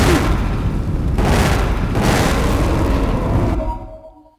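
Burst handgun fire in Resident Evil: The Umbrella Chronicles makes a heavy, booming barrage of rapid shots that blur together, then cuts off abruptly into a short ringing tail.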